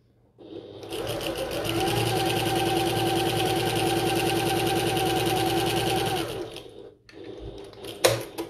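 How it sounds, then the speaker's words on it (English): A sewing machine top stitches a bucket tote with brown thread at a 1/8 inch seam allowance, running steadily and close for about six seconds before stopping, followed by a few light handling clicks. "I'm just going to top stitch at 1/8 of an inch seam allowance."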